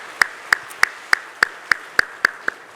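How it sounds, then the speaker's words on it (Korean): A church congregation claps to give glory to God, about nine crisp claps at a steady, even beat with no talking. "주님께 영광의 박수 올려드리겠습니다"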